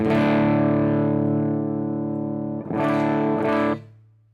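Distorted electric guitar tone from Amplitube 5 amp and pedal software with the bass control at zero: a sustained thick, buzzy chord ringing out, then two quick re-strummed chords before it cuts off and fades.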